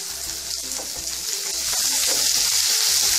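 Onions frying in a pan over low to medium heat, a steady hiss of sizzling oil that grows slightly louder and denser toward the end, with faint stirring scrapes and no voices.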